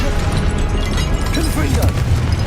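A fiery Confringo spell blast in Hogwarts Legacy, a loud rumbling boom with crackling burst layered over game effects and a voice, dense and close.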